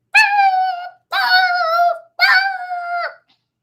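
A dog lets out three long, high whimpering yips in a row, each lasting about a second with short silent gaps between, loud and close.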